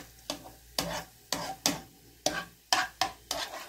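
Dry fruits, including almonds, fry in a pan for sheer khorma, stirred in about seven crisp, rhythmic scraping strokes with a soft sizzle between them, close and clear with no talking.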